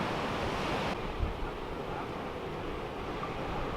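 Ocean surf at Steamer Lane in Santa Cruz, a steady broad wash of waves with wind buffeting the microphone, continuous and fairly loud without a break.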